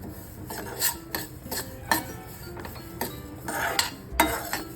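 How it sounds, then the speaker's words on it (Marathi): Fenugreek seeds being lightly roasted in a hot pan for amla and chilli pickle, giving soft scraping and rustling strokes of a spoon against the pan at an uneven rhythm, close and quiet, with no talking. "त्याला पण हलकं भाजून घ्यायचं जास्त नाही भाजायचं"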